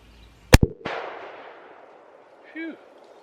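A .308 rifle fires a single loud, sharp crack outdoors, followed by a long rolling echo that fades away, then a brief faint tonal sound near the end.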